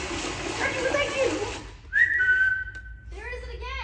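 After a stretch of rushing noise, someone whistles one sustained note, followed by a brief voice-like sound, moderately loud and close.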